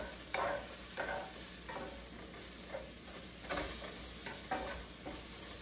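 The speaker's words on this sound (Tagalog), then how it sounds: "lulutuin na natin tong mushroom. Tayo lang natin lumambot." Mushrooms sautéing in a pan for garlic pepper beef, a soft continuous sizzle broken by about seven rhythmic scraping stirs of a spatula, close but fairly quiet.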